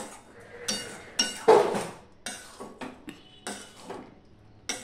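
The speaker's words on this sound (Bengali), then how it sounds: "এবার ভালো করে আমি মিশিয়ে নিচ্ছি" A spoon scrapes and clinks against a pan while spiced jujube plum pickle is mixed with the gas turned off, giving a series of close metallic knocks and stirring scrapes.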